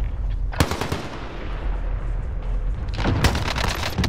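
Automatic gunfire in Call of Duty: Modern Warfare, a loud burst near the start and another sustained volley toward the end over a dense rumbling battlefield backdrop.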